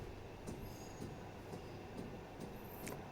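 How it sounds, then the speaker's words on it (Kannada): Metro train running near Vajarahalli station, a low steady rumble with faint rhythmic clicks and a thin high squeal, heard from a little distance at low level with no talk. "ಇಲ್ಲಿ ಮೆಟ್ರೋ ಹೋಗ್ತಾ ಇದೆ ನನ್ನ ಪ್ರಕಾರ."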